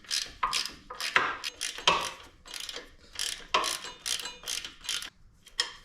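A hand ratchet snugging motor mount bolts on a Harley-Davidson Dyna, close, rapid clicking bursts repeated in an uneven rhythm of short strokes with brief gaps.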